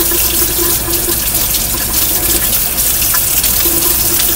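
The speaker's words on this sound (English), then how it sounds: "So I gotta rinse these other ones out." Soapy makeup brushes rinsed under a running tap, with a steady, continuous rush of water into a sink that holds at an even level for the whole stretch, and no talking.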